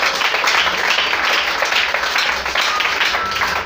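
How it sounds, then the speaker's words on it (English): Church congregation clapping for Jesus during a sermon, a steady, dense wash of hand claps filling the room at close range, loud and continuous throughout with no speech over it. "If you want to clap for Jesus."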